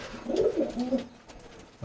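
Pigeons of a long-flying racing breed coo in a loft, several low burbling calls close by that fade toward the end.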